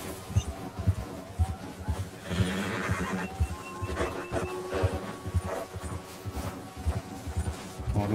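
A horse neighs and whinnies repeatedly in the open-world western game Red Dead Redemption 2, with clip-clopping hooves and ambient game sounds underneath, loud and close.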